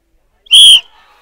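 A single sharp, loud referee's whistle blast lasts about a third of a second, signalling the start of a mud plowing race in Lanja, Maharashtra, followed by faint background noise.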